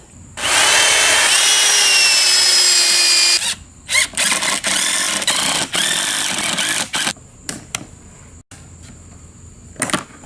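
A power drill whines at high speed boring pilot holes with a 1/8 inch bit, then drives 2.5 inch screws into wood in short pulsing bursts separated by brief pauses, loud and close.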